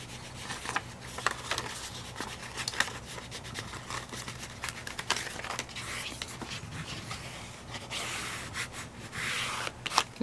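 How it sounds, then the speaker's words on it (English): Craft scraper slowly peeling and smoothing a sheet in a paper journal, close soft scraping and rubbing strokes with light crinkles, steady and fairly quiet, with no talk. "I can use, again, my craft scraper. And I'm just gonna slowly peel this and smooth it at the same time."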